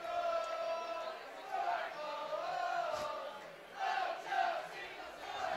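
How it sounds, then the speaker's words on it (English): A crowd at a charity soccer match roars after a goal, the cheering swelling and fading in waves, with loud shouts and yells rising above a distant stadium din. "The crowd erupting into Ocho Cinco, score a goal."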